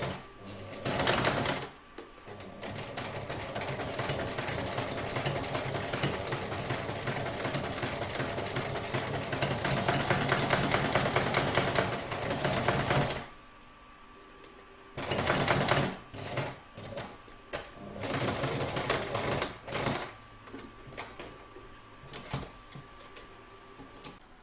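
A home embroidery machine stitches an in-the-hoop crazy patch fabric bag in a steady, loud whirring buzz for about thirteen seconds. It stops briefly, then resumes in several shorter bursts separated by pauses.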